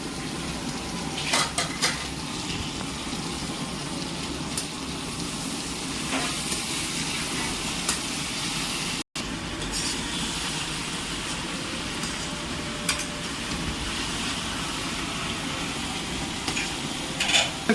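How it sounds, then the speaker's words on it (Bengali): A stove burns under a pot of Kerala sambar, making a steady roaring hiss with sizzling throughout and occasional clinks of utensils. There is one momentary dropout partway through. "আর এখানে স্টোভ তো চলছে, একদম গ্যাসের থেকেও বেশি স্পিডে চলছে স্টোভটা।"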